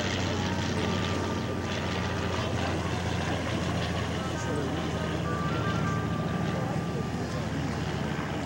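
A biplane flies past at an airshow, its engine drone a continuous, steady rumble heard at a distance, with a commentator's voice talking over it throughout.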